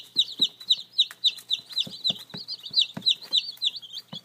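Dark Cornish chickens cluck in a steady run of short, repeated calls, close and fairly loud, with soft thumps and shuffling beneath and no talking.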